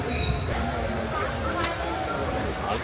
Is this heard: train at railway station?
yes